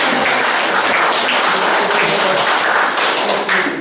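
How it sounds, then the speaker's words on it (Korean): Loud, dense applause from an audience at a talk in Iksan, steady and continuous throughout with no pauses. "이런 대목에서 박수 한번 하겠습니다"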